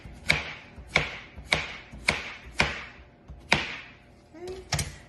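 Knife chopping through squash on a cutting board into thin slices, six or seven evenly spaced sharp thuds close by, each strike ringing briefly against the board.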